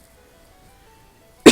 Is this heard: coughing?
yes